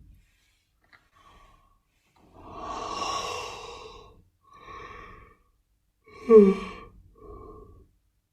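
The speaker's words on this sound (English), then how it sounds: "I stretch a little bit, yawn." A person yawns and sighs while stretching, giving several long, drawn-out breaths and exhalations close up in a quiet room.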